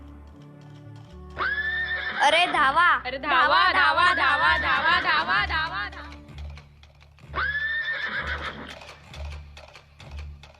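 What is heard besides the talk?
horses neighing and galloping toward the speakers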